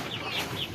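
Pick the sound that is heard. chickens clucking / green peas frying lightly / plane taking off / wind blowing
chickens clucking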